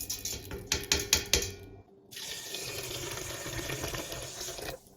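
A few clattering knocks of a pot, then a steady stream of water pours in from a tap over ingredients for Nauryz kozhe, running continuously until it stops.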